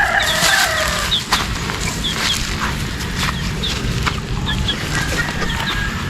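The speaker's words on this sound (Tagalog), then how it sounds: "Puro panabong." Several fighting roosters crow and cluck loudly and close by, calls overlapping against a constant background of farmyard noise.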